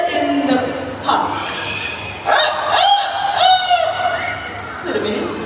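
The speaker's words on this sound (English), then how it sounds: "A rooster in the park." A rooster crows in a park in Singapore, with several loud, drawn-out calls rising and falling over about five seconds, close by and clear above faint background murmur.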